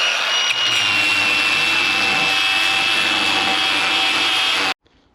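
A cutting disc grinding through a bolt on a DAF 45 truck, a loud continuous high whine that runs steadily, then cuts off abruptly near the end.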